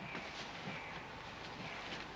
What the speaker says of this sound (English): Conductor, you get this train on the move.